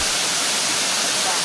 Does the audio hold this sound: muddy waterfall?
yes